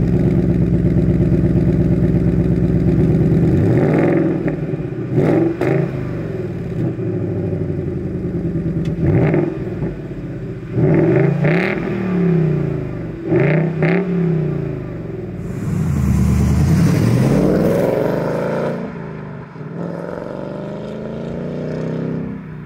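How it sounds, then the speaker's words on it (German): A 2019 Ford Mustang GT coupe with a 5.0 V8 driven hard, its loud deep engine rising and falling through repeated revs and downshift blips with throttle bursts, heard alone and close. "Fahren wir natürlich den Mustang auch noch eine Runde."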